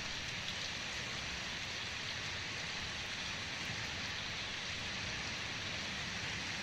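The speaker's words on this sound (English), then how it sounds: "And we're back to that beautiful rain we played at the beginning." A recorded rain track from a smart speaker, a dense, even hiss of falling rain that holds at a steady moderate level throughout with no voices.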